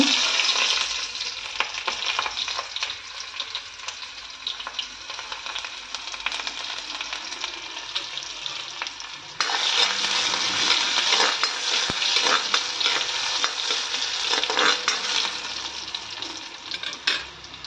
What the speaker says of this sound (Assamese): কেৰাহী গৰম হৈ গ'ল মোৰ, পিঁয়াজখিনি দি ল'ম ইয়াতে।